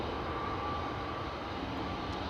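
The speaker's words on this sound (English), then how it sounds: "This is KLM Flight 1603 to Rome, A321 Neo." A KLM Airbus A321neo airliner at Schiphol Airport gives a steady, broadband engine roar, constant and moderately loud throughout, with no talk.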